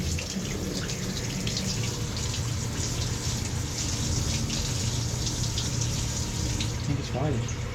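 Hot water tap running steadily into a sink after a newly fitted gas boiler fires, a continuous rushing gush throughout with faint background noise.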